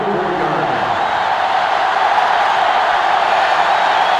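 Stadium crowd roar in the NCAA 06 football video game, Rice at Texas, a steady loud wash of massed voices that swells slightly as the defense urges fans to their feet, with no distinct cheers standing out.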